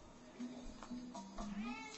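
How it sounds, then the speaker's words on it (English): Cat howling in the video game Sly 2, a drawn-out, wavering meow-like wail repeating in several rising and falling pulses over a muted game background. "I'm gonna punch this cat in a minute, seriously. She won't stop howling."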